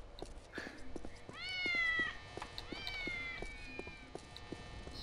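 A cat in the video game Postal 2 lets out two drawn-out, clear meows in a row, heard close over faint, regular ticking steps and a low background hum.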